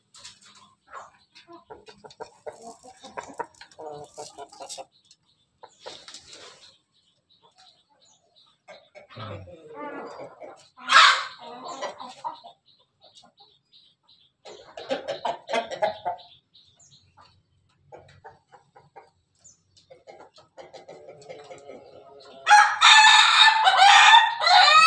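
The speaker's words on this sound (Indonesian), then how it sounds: "Itu suara ayam pelung sama ayam bang sama ayam ketawa." Pelung, Bangkok and Ketawa chickens crow in a morning yard at feeding time, several separate crows spread across the scene, the loudest a long, harsh near crow at the end.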